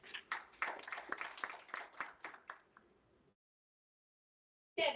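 A small audience gives a round of applause for a speaker at an AI conference talk, a few seconds of sparse, close clapping that tapers off into silence before another brief sound at the very end.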